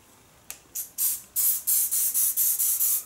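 A Faberge Brut spray lotion bottle is pumped about nine times, each a short, sharp, close hiss that gets longer and fuller, with a steady rhythm.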